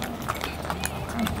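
Horse hooves clip-clop during a ride at Tandon Ciater, a light irregular patter of steps heard under continuous talking and outdoor background noise.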